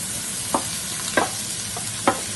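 Chopped sweet pepper and onion sizzle in a pan for a vegan Jamaican-style curry, a soft steady frying hiss broken by three or four brief scraping stirs.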